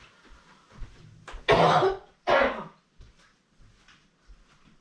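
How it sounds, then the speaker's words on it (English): Two loud, harsh coughs close by, separated by a short pause, with quiet breathing and small sounds around them. "I've still got a bit of that cough"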